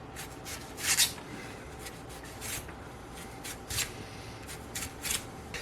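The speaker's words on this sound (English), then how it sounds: "So what I do is I cut it at an angle" A knife slices through leek on a cutting board, giving a few soft scraping cuts spaced irregularly over a quiet background.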